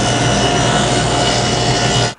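A table saw blade raised to three quarters of an inch cuts a wooden rail for a clock door, a loud, steady whining buzz that holds for about two seconds before the cut ends abruptly.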